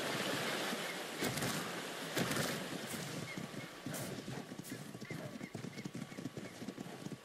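A horse in the video game Ark gallops with rapid clip-clop hoofbeats over a continuous rushing ambience, with a neigh near the start.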